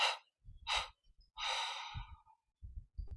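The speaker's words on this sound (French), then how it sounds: "on prend une inspiration profonde par les narines, on expire en 3 fois par la bouche" Deep breaths during a guided yoga breathing exercise: audible nasal inhales alternate with mouth exhales, one exhale drawn out in stages, calm and close, with no talking.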